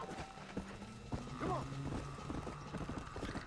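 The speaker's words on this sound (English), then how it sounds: "Come on, horse." A horse's hooves clip-clop in an irregular rhythm in a cowboy video game, fairly quiet, with a faint neigh midway and light game sounds around.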